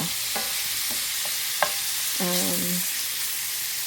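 Ground meat browning in a pan and stirred with a wooden spoon, a low steady sizzle under a few short scraping and clinking sounds, close by with no talking.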